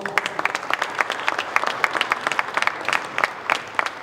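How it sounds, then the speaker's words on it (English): A crowd applauds at a National Futsal League ceremony of the South African Indoor Football Association, with steady, dense clapping running throughout at moderate volume. "Give those a round of applause."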